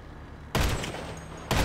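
Sniper rifle fire in GTA Online: two loud, sharp blasts about a second apart, each cutting in abruptly over a quiet game background.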